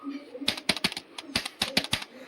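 Keys clack in quick bursts on a PC keyboard with multimedia keys, a run of sharp, close taps with brief pauses between clusters.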